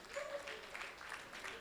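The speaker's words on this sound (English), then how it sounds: "A round of applause for him once again" Audience at a cattle, sheep and goat farmers' exhibition applauds a professor, a faint, even patter of clapping with a voice briefly audible beneath it.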